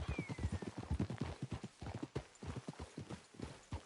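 Rapid, steady clip-clop of several horses' hooves on a hard surface in Red Dead Redemption 2, close and continuous, with a faint whinny early on.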